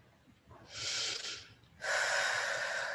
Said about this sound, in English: We're breathing here as the heat builds.